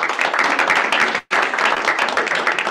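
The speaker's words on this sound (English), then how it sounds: "Top profit share members, let's give them a round of applause." A room of colleagues at a company stakeholder meeting claps for top profit share members, dense continuous applause that breaks off for a brief moment before resuming just as full.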